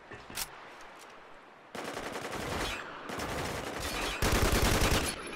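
Gunfire in the multiplayer shooter game Spec Ops The Line crackles in rapid automatic bursts, a brief pop first and then three loud sustained volleys back to back, with no voices.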